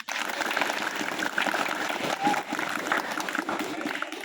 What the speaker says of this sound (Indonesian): Oke, tepuk tangan seluruhnya.